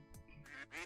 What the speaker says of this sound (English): Duck! Go get them birds!